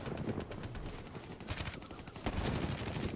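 Rapid machine-gun fire in Black Ops 3 multiplayer gameplay, aimed at a robot, with continuous overlapping bursts at moderate distance and a sharper crack of shots partway through.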